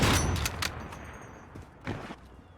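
Sniper rifle shots in Call of Duty Modern Warfare during a snipers-only match, a few sharp separate cracks spaced out with quieter game noise and reload sounds between them.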